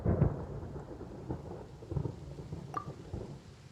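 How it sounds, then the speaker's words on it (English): Thunder in the video game Genshin Impact: low rolling rumbles with a few soft cracks, fairly distant and steady under a rainy storm wash, with no one talking. "Paimon hears thunder!"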